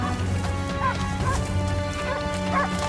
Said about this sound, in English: The hunting dogs spotted another boar. Their barks echoed through the air as they chased their prey